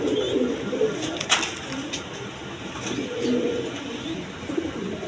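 Pigeons coo repeatedly in low, rolling bursts close by, with some bird movement and faint background noise.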